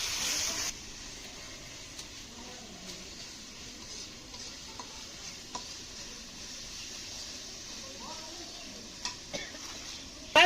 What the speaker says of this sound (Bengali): মশলাটা আমি সুন্দর করে ভেজে নেবো